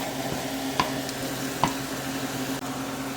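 Ginger paste sizzles gently in a pan over a low flame, a steady soft frying hiss broken by two sharp metallic taps of a spoon, close and moderately quiet, with no speech.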